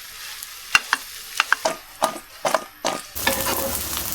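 Fish bones fry in a kadai with onion and garlic, with a run of sharp spatula clicks and scrapes over a steady sizzle and no voices.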